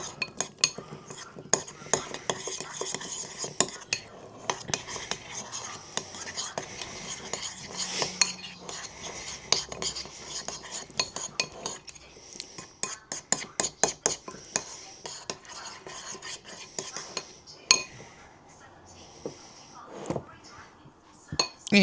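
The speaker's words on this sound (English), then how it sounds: "Just keep mixing all the chocolate" Chocolate brownie batter mixed in a bowl, with irregular scraping, clinking spoon-on-bowl taps and dish knocks at close range, intermittent bursts rather than a steady rhythm, accompanied by a person talking.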